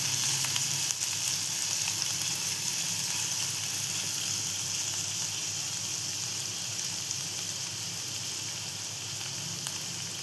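Chopped onion sautéing in a pan, a steady soft sizzle and crackle with no talking, continuous and even throughout.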